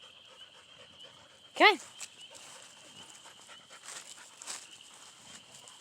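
A husky breathes and pants softly, close by, while a person speaks briefly over it, with a sharp high whine or yelp standing out once early on.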